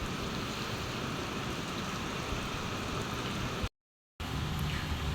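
Heavy rain falling steadily during a Christmas-day downpour, a dense continuous hiss that cuts out briefly for a moment of silence and then resumes.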